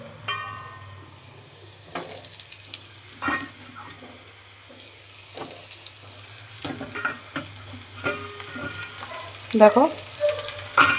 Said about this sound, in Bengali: এবার ঝিঙে আলু একসঙ্গে ভাজবো, একসঙ্গে ভেজে নেব।